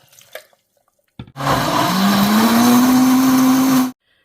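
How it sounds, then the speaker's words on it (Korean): A kitchen blender whirs loudly for a few seconds as it purées water, sugar, salt and rice for radish kimchi seasoning, the motor pitch rising steadily as it runs, with no talking. "물을 부어서 갈아줄게요"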